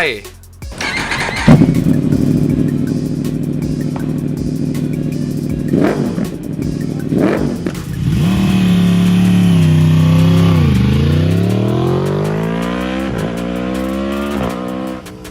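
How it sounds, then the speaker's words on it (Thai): Yamaha YZF R1 superbike engine, idling briefly and then revving hard up through several rising and falling sweeps, loud and close. "มันคือ Yamaha YZF R1"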